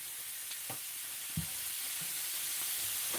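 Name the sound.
food sizzling in a frying pan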